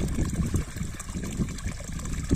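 A stream branch flows past an iron fountain with a pipe and trough in a forest, making a close, continuous gurgle and splash with a steady, even rhythm.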